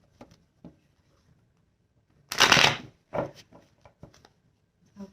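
Quick papery riffles and taps of a deck of cards being shuffled, one louder burst of riffling amid scattered soft clicks, close up.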